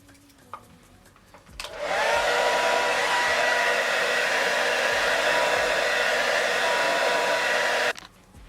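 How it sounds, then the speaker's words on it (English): A hair dryer blow-dries hair after heat protector is applied: after a few clicks it switches on to a loud, steady whooshing roar that holds for about six seconds, then cuts off abruptly. "once I've just added some heat protector and I've blow dried it"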